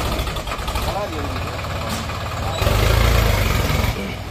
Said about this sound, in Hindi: ट्रैक्टर भाग रहा है